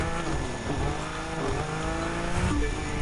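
Muscle car engines roar steadily as they street race through a neighborhood in The Crew 2, revs rising and shifting with a brief tire squeal near the end, loud and continuous.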